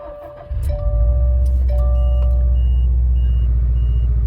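A Subaru WRX STI engine turns over and catches, settling into a steady, close rumbling idle while a faint warning chime beeps a few times.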